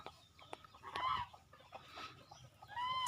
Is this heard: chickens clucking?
yes